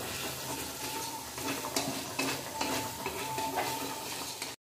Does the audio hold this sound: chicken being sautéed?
yes